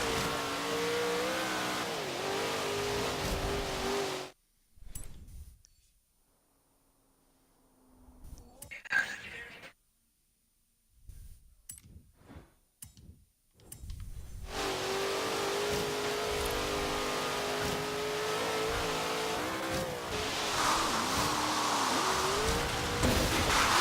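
Racing video game car engine revving hard with tire squeal, loud and continuous, cutting out briefly to near silence for several seconds before the roaring engine returns at full volume.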